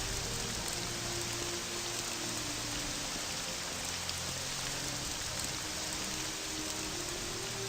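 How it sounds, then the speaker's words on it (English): Heavy rain in The Elder Scrolls: Legacy video game pours down as a constant loud, dense hiss with a faint low hum beneath, unbroken from start to finish and without any speech. "it's still raining a lot"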